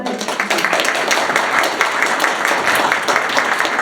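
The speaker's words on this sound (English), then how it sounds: "a final round of applause for everyone on stage" A conference audience at a tech SEO event in Sheffield claps in a steady, dense round of applause, close and sustained for the whole stretch with no talk over it.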